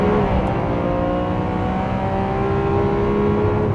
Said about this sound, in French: On a un V12 à l'arrière, 50 chevaux de plus que l'Aventador classique, 750 au total.